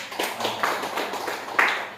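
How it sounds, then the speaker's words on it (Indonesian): An audience at a village anti-corruption evaluation event claps briefly, a few distinct, fairly close hand claps scattered over roughly two seconds. "Tahun ini kita tepuk tangan untuk"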